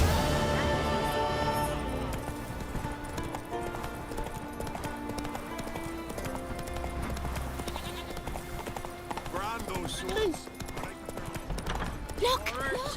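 Horse hooves clip-clopping at a gallop in The Witcher 3 video game, a steady rhythmic beat under game music, with characters talking and a horse whinny near the end.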